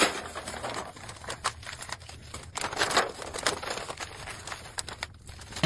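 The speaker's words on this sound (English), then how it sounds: "now we're just gonna cut this off and wrap this piece of bubble wrap" Bubble wrap is cut and wrapped around Christmas decor, giving irregular crinkling, rustling and snipping bursts up close, quiet and uneven, with no talk.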